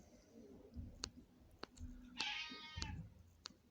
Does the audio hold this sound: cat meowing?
yes